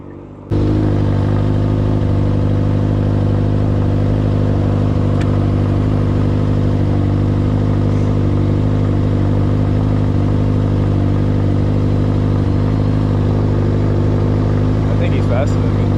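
A Suzuki GSX-R600 motorcycle with 1000cc headers gives a loud, sustained exhaust drone that starts abruptly and holds steady throughout, with a constant rumble and faint high whine.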